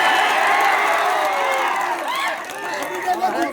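A protest sit-in crowd cheering, shouting and whooping, a dense loud roar of many voices that eases slightly midway, with individual yells rising above it.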